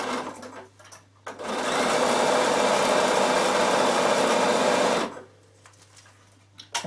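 A Bernina sewing machine top stitching a fabric carry case, running in one steady loud whirring burst of about four seconds before stopping, with quiet room tone either side.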